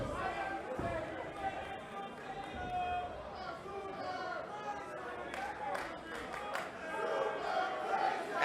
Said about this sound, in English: Crowd trying to rally Super Crazy to play through the pain